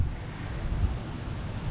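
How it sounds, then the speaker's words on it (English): Strong gusty wind blowing outdoors on a cloudy, stormy afternoon, a steady low rumbling buffet against the microphone with a slight swell in the middle, continuous and fairly loud with no voices. "It is very, very windy today"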